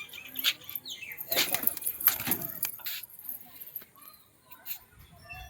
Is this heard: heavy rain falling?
no